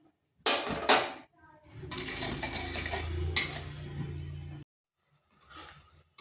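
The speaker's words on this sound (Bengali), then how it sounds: "চিনি দেওয়ার পর এটা কিন্তু এইভাবে অনবরত নাড়তে হবে।" Tomato jelly with sugar being stirred in a pot over a low flame, loud metallic scraping and clattering of a spoon against the pot in separate bursts, separated by short pauses.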